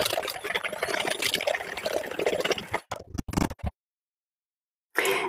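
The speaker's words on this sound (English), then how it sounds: "I'm just going to whisk this together now." A milk mixture for a fruit tea loaf is whisked in quick, continuous scraping strokes for about three seconds. A few short bursts follow, then a silent pause and one brief final flurry. No one speaks.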